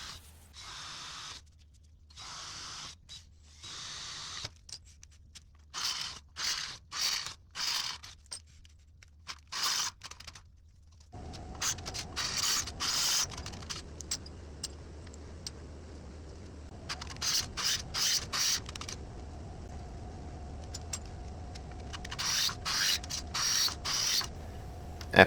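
A drill bores a 31/64-inch hole in a custom bumper to mount a hitch receiver, running in repeated short bursts with pauses between, then a steadier motor hum under further on-off pulses.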